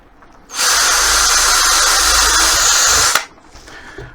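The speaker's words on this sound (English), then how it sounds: "So then I'm going to drill through here" A power drill bores through wood while a clamp storage rack is being built, one steady loud whirring run of about two and a half seconds, close up, with a quiet room before and after.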